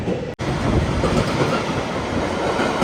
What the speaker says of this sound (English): One of the train is arriving now